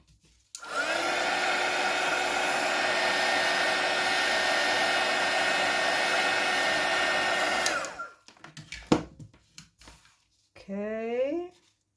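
A heat tool blowing on resin, a loud steady whooshing roar for about seven seconds that cuts off, followed by handling clatter and a brief spoken voice.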